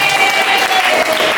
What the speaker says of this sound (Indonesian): Tepuk tangan dong buat lu.